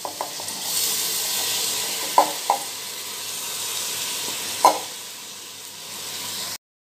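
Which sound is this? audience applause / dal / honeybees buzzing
dal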